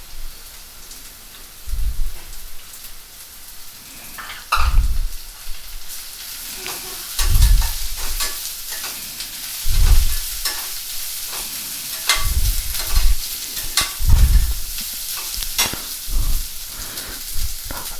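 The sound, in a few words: finely chopped cabbage frying in pan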